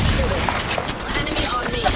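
Dense, continuous gunfire crackles through an Apex Legends firefight, a busy, noisy barrage with a character's voice lines mixed in.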